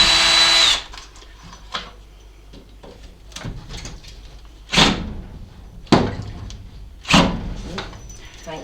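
A power drill fitted with a Phillips screw bit backs out screws from the floor molding inside a school bus being converted. An opening whine gives way to several short bursts of driving with knocks and clatter between them.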